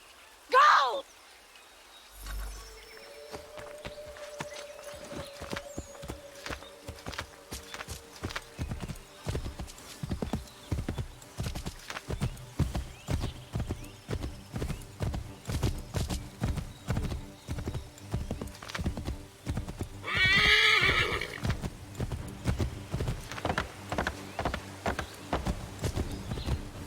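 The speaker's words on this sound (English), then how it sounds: "Take my horse! Bring him here!" Horse in Assassin's Creed 3 gallops with steady, accelerating hoofbeats that grow louder and quicker, bracketed by whinnies near the start and again toward the end, with game dialogue spoken over parts of it.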